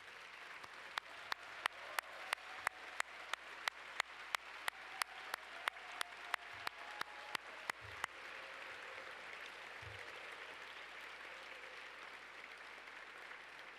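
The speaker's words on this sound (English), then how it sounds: "please stand and have us give you a round of applause for your work" Gala audience applause at the Kaleidoscope Ball, starting as a steady wash of clapping with a run of sharp, evenly spaced close claps for the first eight seconds, then settling into a continuous, moderately distant ovation.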